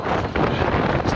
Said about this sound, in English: Stop the wind.